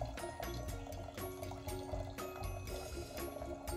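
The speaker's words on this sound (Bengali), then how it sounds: "ডালটা ধুয়ে নিলাম, কারণ ডালটা বসাতে হবে।" Lentils being washed in water in a home kitchen, a close, steady sloshing and pouring of water with soft splashes and clinks, continuing without pause.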